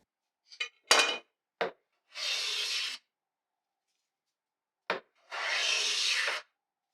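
Hand plane planing the edge of a wooden board for a lingerie dresser, with a few short scraping strokes followed by two long, steady shaving passes separated by a pause, close and clear with no talking.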